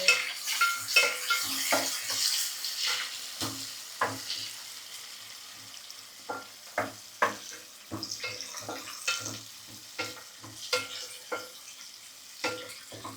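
Three medium onions frying in a pan until golden brown for a crab and egg biryani, a soft steady sizzle overlaid by frequent clacks and scrapes of a spatula stirring them, close by.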